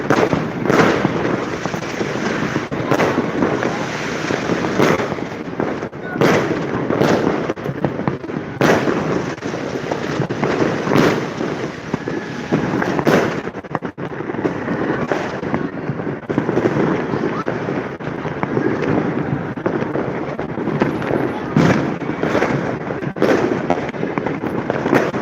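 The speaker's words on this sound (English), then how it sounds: "so far, it sounds that the fireworks are coming from this direction." A continuous barrage of New Year's fireworks: dense, overlapping booms and crackles with sharp bursts standing out, loud and sustained throughout.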